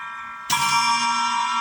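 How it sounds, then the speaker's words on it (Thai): A cymbal on a homemade foot-pedal drum kit is struck once, a sharp bright crash that rings and sustains loudly with shimmering overtones until the end. "อันนี้คือแฉนะครับ"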